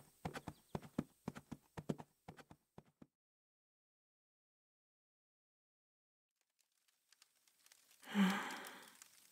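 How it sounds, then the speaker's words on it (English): Horse hooves clip-clopping in an audio drama, a quick run of sharp, evenly spaced hoof strikes that stops, followed by silence and then a breathy snort or sigh. "Ride, Topaz"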